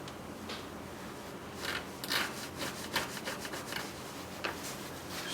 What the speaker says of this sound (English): I'm going to use my file just to deburr these holes where the pins go through.